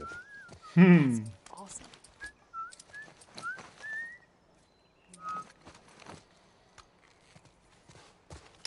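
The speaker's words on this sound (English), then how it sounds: "I'm whistling." A character in The Last of Us Part 1 whistles a wandering, bright melody for about four seconds, close and clear, while a player speaks briefly over it and soft footsteps and game ambience follow.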